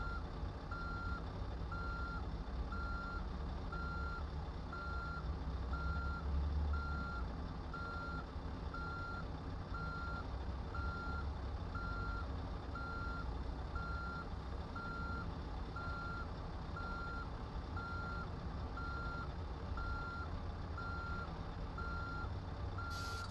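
A truck in Euro Truck Simulator 2 backs up a trailer while its reversing alarm beeps at an even, regular pace over a low, steady engine rumble, continuous throughout.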